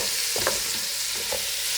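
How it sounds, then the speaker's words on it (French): Spiny lobster à l'armoricaine being stirred in a pan, with a few soft scraping strokes over a steady low sizzle of frying; no voices. "On va mélanger le tout pour bien parfiner l'ensemble."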